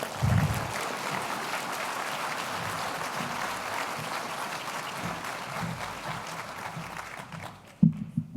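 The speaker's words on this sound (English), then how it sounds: "Please give Sarah a big round of applause" An evening audience at an awards gathering gives a warm, sustained round of applause for an honoree, a steady even wash of many hands that fades out near the end.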